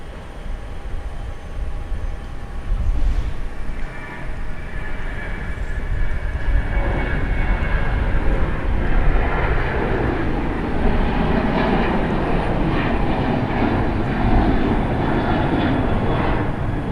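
A China Airlines airliner departs Gimpo Airport for Taipei, a steady broadband jet-engine roar that swells and holds loud throughout, heard from an airport observation deck.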